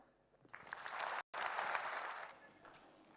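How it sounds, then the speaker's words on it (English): An audience applauds after a talk, a swell of clapping that rises quickly, holds for about two seconds with a brief cut, then fades, fairly distant with no speech over it. "Yeah, clap."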